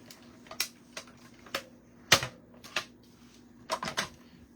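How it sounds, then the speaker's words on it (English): A die cutting machine works through a handmade card, giving sharp mechanical clicks and ticks at irregular intervals, close and fairly quiet against a faint hum. "And then we're going to be die cutting it."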